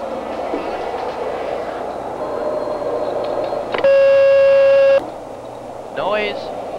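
A train horn sounds as one steady, loud blast lasting about a second, over a rumbling background with a voice speaking before and after it.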